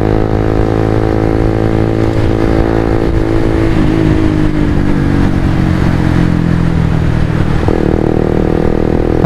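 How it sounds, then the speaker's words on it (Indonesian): A Suzuki GSX-R 150 motorcycle ridden fast toward Lembang, its engine droning loud and steady throughout with rising and shifting tones as it revs between gears. "Benar-benar motor ini cakep banget ya kalau dibuat ngebut ya"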